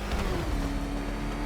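In the Batman: Arkham Knight video game, a car engine drones loudly and steadily during a race, a close, sustained growl with no speech.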